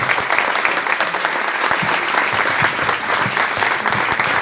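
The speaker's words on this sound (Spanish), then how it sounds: "Un fuerte aplauso para el Señor" Sustained applause from a church congregation fills the space, dense and steady clapping from a large crowd at a sermon, continuous for several seconds with no speech over it.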